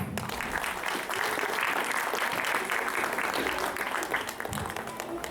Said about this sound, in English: So please welcome Ms. Richa Rajput with a round of applause.